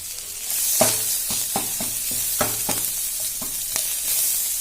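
Cumin, chilli and onion fry in hot oil for a chhole curry, giving a steady close sizzle broken by a regular series of sharp spatula scrapes against the pan, with no voices.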